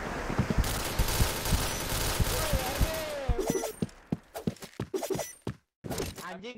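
Rapid bursts of gunfire from a tactical shooter video game crackle through a bomb-planted round, then thin into scattered single shots with short gaps, all loud and close.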